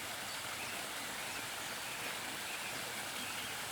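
A garden waterfall cascade fed by pumped water gives a steady, even rushing and splashing that holds at one level throughout, close by and uninterrupted.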